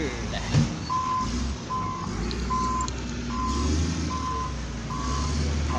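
A ten-wheeler boom truck backing up gives a steady, evenly spaced series of reversing beeps over a low engine rumble and road noise, with faint talk in the background.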